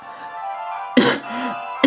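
Two short, loud coughs from a German-speaking gamer during a Pokémon X & Y play session, the first around the middle and the second cut off at the end, over faint steady background hum.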